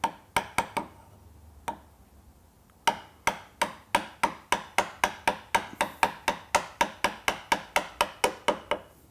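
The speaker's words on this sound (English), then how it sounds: "And then just tap that down vertical. And your chisel needs to be sharp for this, by the way." A sharp chisel is tapped straight down with a mallet to cut dovetail tails in wood, giving crisp, close knocks that start sparse and irregular, then settle into a fast, steady run of evenly spaced strikes, with no talking.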